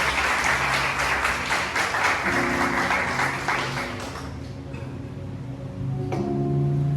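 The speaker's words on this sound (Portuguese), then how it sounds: "Dê mais um aplauso para o Senhor." A church congregation at a Sunday service claps together in praise, loud sustained applause that eases slightly while an organ or keyboard tone rises underneath, then swells again.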